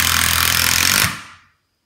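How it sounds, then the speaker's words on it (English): A Milwaukee M18 Fuel impact driver drives a screw in a loud, close burst of rapid hammering impacts that runs for about a second before abruptly stopping and trailing off into silence. "going to drive the same screw. 95. This is the fuel impact."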